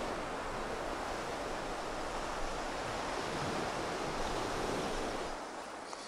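Ocean waves crashing against rocks, a steady, loud broadband rush of surf with continuous wash and no distinct breaks, heard alone without voices.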